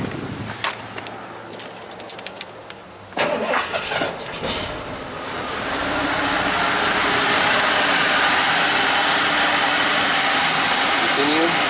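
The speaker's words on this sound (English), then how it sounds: "Start engine, allow to reach normal operating temp." A car engine in a Ford or Honda is cranked and started during a key-on engine-running diagnostic self-test, catching with a loud burst and then settling into a steady, close idle after some clicks and quiet handling sounds.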